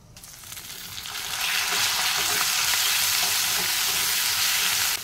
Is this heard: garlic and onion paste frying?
yes